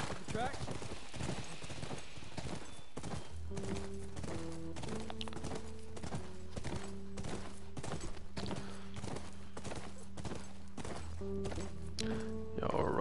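Horse hooves in The Last of Us clop in a steady rhythmic gallop along a highway, loud and close, over a low droning backdrop.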